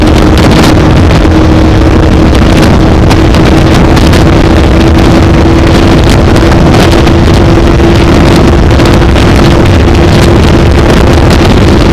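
Bajaj Pulsar 180 motorcycle engine on a top speed run, a loud steady high-revving drone with heavy wind rush buffeting the microphone throughout.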